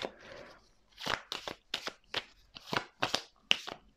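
Tarot cards are handled and laid down up close, with a soft shuffle followed by a series of crisp flicks and slaps at an uneven rhythm.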